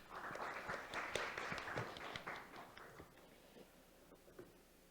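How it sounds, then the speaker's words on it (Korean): Audience at a data innovation forum applauds to welcome a presenter, a burst of scattered, fairly close claps that swells in the first two seconds and then thins out and fades to a few last claps. "큰 박수로 맞이해 주시기 바랍니다."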